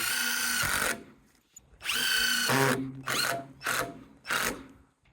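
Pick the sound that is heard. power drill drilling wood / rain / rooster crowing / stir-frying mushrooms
power drill drilling wood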